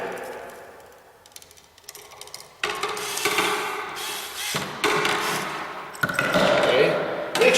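A screwdriver tightens down the wiring connection on a 240-volt Cadet ceiling heater, giving close, scraping clicks and rasps in several bursts while someone talks over them.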